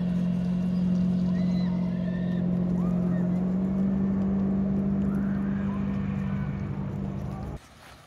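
A motorboat towing a tube drones loudly and steadily nearby with faint chirps above it, then the noise drops away abruptly just before the end.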